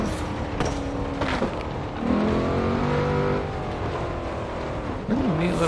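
McLaren Senna supercar engine in the racing game Forza Horizon 4, droning steadily with shifting pitch as it drives fast, a continuous close engine tone with brief revs and no talking.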